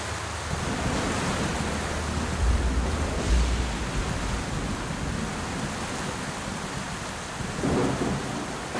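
Thunderstorm in the Bootstrap Island survival game: steady hissing rain fills the scene, with deep thunder rolls swelling around the middle and again near the end, with no voices.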